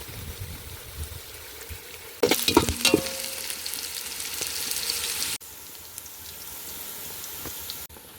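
Curry leaves hit hot oil with a sudden burst of crackling and spitting, then settle into a steady sizzle that drops quieter toward the end.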